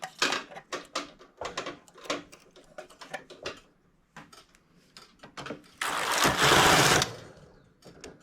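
A domestic knitting machine's carriage slides across the bed knitting a lace stitch, giving a run of short rattling, clicking passes followed by one loud sustained whoosh-clatter of a full sweep, close and with no talk.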